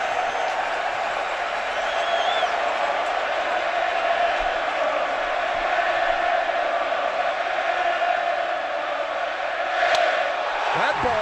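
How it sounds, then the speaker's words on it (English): A standing-room-only stadium crowd at a 2013 Pirates baseball game keeps up a loud, sustained roar and cheering throughout, with a sharp crack near the end. "this standing room only crowd trying to get under Johnny Cueto's skin"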